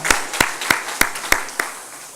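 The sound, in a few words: church congregation applauding the teachers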